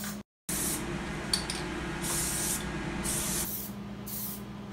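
Plasti Dip coating sprays from an aerosol can onto a rental fridge in steady hissing bursts, several in a row with brief gaps and one short silence early on, close and fairly loud.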